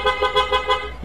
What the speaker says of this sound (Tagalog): Busina niya.